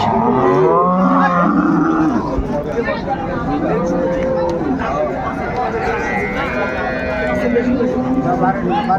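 Cows and calves at a livestock market in Dinajpur, Bangladesh, lowing several times amid a crowded, noisy hubbub, with people talking and bargaining close by throughout.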